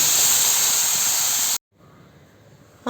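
Pressure cooker whistle blasting steam in a kitchen while cooking payar mezhukkupuratti, a loud steady hiss that cuts off abruptly, then a quieter pause before the hiss bursts again.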